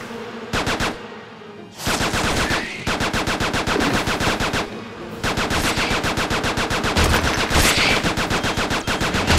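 Rapid bursts of gunfire ring out in the Xbox 360 shooter Attack of the Movies 3D, with loud machine-gun style volleys and brief pauses between long strings of shots.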